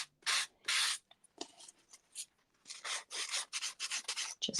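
A sanding block rubs frayed cardstock edges in quick, close, rasping strokes, first two longer passes and then a rapid run of short scrubbing bursts separated by brief silences.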